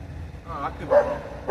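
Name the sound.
dogs barking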